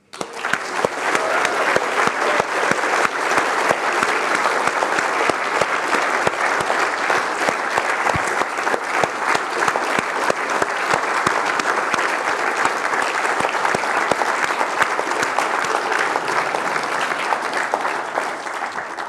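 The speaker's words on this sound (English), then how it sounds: "Please join me once again in offering Maarten a humongous applause for a wonderful lecture, please." Sustained audience applause after a university lecture on urban fluid mechanics, a steady dense roar of clapping from a large hall that holds evenly for about nineteen seconds before tapering slightly at the end.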